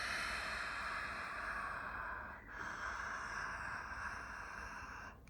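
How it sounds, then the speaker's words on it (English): Someone doing a breathing exercise breathes loudly and steadily, then sharply gasps air back in through the mouth near the middle before the breathing resumes. The sound is close and fairly quiet. "okay, so you're kind of gasping the breath back."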